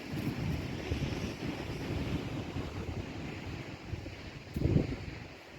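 Wind gusting on Chesil Beach at Abbotsbury at around 20 miles an hour, a low buffeting roar across the microphone with a distant wash of surf and a stronger gust near the end.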